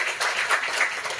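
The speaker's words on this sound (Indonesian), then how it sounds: "tepuk tangan untuk Ibu Dia" Audience applause at a talk show on AI: a brief burst of steady, moderately loud clapping from a crowd, with no voice over it.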